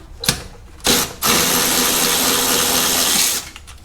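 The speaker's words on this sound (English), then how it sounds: "Will this electric ratchet fit in there or no?" An electric ratchet on an engine bolt of an Audi S4 B8.5 gives two short buzzing bursts, then whirs loudly and steadily for a couple of seconds up close before stopping.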